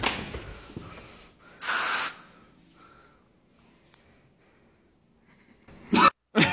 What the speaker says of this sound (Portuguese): O maluco tosse no final.